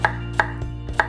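Ginger sliced with a knife on a cutting board for a kimchi seasoning: four sharp, close knife taps at a quick, slightly uneven rhythm against a steady low background hum.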